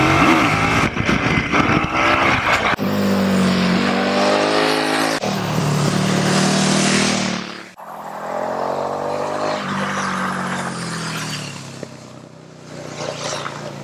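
A KTM Superduke R motorcycle engine roars loudly and steadily up close, its pitch climbing and falling through revs, with a brief dip partway through before it picks up again.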